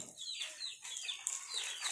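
Rapid, high-pitched chicken clucks and squawks from a video game repeat throughout, a short burst that sounds slightly synthetic.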